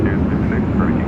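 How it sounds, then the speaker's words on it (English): A Qantas A330 airliner arriving at LAX from Brisbane gives off a steady, loud jet rumble for a brief moment, with no pauses. "up next, Qantas A330. Coming in from Brisbane, flight 15."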